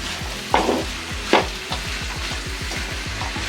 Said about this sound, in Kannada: ಕಟ್ ಮಾಡಿ ಚೆನ್ನಾಗಿ ವಾಶ್ ಮಾಡಿ ತೊಳೆದು ತೊಗೊಂಡಿರೋಂಥ ಎಲೆಕೋಸು ಇದನ್ನು ಹಾಕಿ ಚೆನ್ನಾಗಿ ಮಿಕ್ಸ್ ಮಾಡ್ಕೊಳ್ಳೋಣ